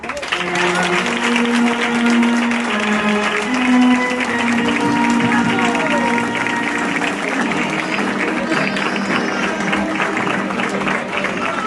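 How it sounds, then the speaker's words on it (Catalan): Audience at a Falles sketch presentation applauds the Falla Gran artist, steady clapping heard beneath loud sustained music with a clear melody, with the clapping continuing as the music carries on. "Rebam amb un fort aplaudiment a nostre artista de la Falla Gran, Iván Martínez i Belló."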